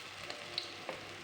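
Sausages frying in a pan give a steady, soft sizzle with a few faint pops, quiet and close, with no voices.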